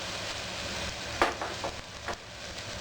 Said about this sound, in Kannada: ಮೊದಲು ನಾವು ಬೇಳೆನ ಇದರಲ್ಲೇ ಫ್ರೈ ಮಾಡ್ಕೊಳ್ಳೋಣ